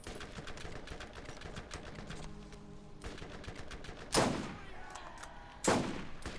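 Gunfire in the video game Borderlands: a steady stream of rapid shots runs throughout, with two louder, sharper bursts standing out near the end, no talking over it.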